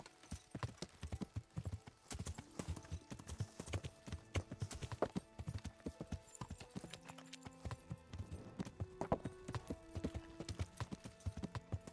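Horse hooves clip-clop in a steady, regular rhythm through the medieval game Kingdom Come: Deliverance, close and clear, with a brief neigh-like sound and faint game ambience underneath.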